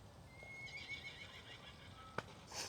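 Horses on private property where horseback riding is offered, with a drawn-out whinny and short neighs heard faintly at a distance over quiet outdoor ambience, plus a brief sharp knock.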